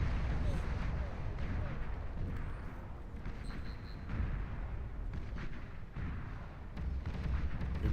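Dense, rumbling explosions from the real-time strategy game Beyond All Reason, a continuous barrage of booms and crackling blasts layered over one another, loud and steady throughout with no pauses.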